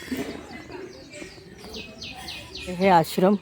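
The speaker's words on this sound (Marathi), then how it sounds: "चिमण्यांचा किलबिलाट." Sparrows chirp among mango and fruit trees near an ashram by the Narmada River, giving faint, scattered twittering under a woman's speech, with a couple of louder calls near the end.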